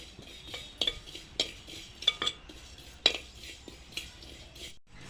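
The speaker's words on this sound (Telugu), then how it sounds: "ఒక నాలుగు చెంచాల నువ్వులు వేసుకోవాలి మంచిగా వేయించుకోవాలి" A spoon scrapes and clinks against a pan while fenugreek and sesame seeds roast for a village-style gongura pickle, giving sparse, sharp metallic taps at uneven intervals over a quiet background.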